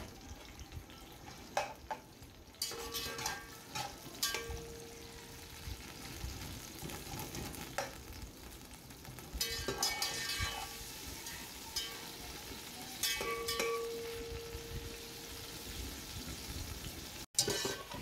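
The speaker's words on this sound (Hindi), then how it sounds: "ऑयल हो गया खैर से हमारा गर्म। अब डालते हैं प्याज।" Onions fry in hot oil for a cumin potato pulao: a quiet, uneven sizzle with intermittent spoon scrapes and clatters, rising and falling as the pieces are stirred.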